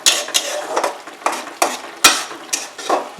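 Fried prawns get stirred in a pan: a quick run of scraping, clinking spatula strokes against metal, about eight sharp bursts over a faint sizzle, close up with no talking.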